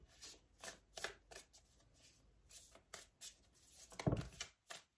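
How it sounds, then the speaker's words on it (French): Tarot cards being shuffled and drawn by hand, a series of quiet crisp riffling and flicking bursts in irregular rhythm, close up, with one louder slap near the end. "Allez, on prend 3 cartes du tarot."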